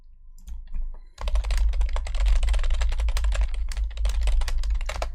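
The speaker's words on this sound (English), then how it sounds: "Sorry for the typing." Rapid typing on a computer keyboard, dense irregular key clicks running steadily and close up after a brief quieter start, with no talking.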